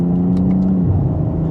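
A 2025 BMW M340i in sport mode gives a loud, steady exhaust drone with a smooth rumbling note that eases slightly in pitch partway through, heard up close with no talk.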